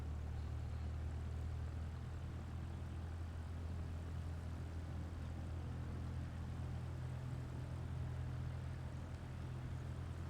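Aircraft taking off in Microsoft Flight Simulator 2024, heard as a steady, loud engine drone with a deep low rumble that holds constant for the whole stretch, with no voices.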